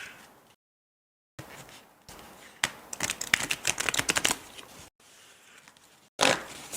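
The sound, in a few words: shuffling cards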